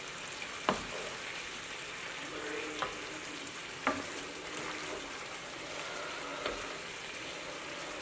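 Butter sizzles and fries steadily in a pan while cooking garlic chicken, with a close, continuous crackle broken by a few sharper pops and clinks of stirring.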